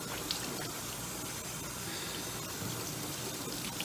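Tap water runs steadily and fairly faintly while soap is rinsed out of the human hair on a reborn baby doll, making a continuous wash of splashing with no talk.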